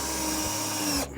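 A power drill whines steadily while driving self-tapping screws into fish room framing, a continuous close motor tone that cuts off abruptly near the end.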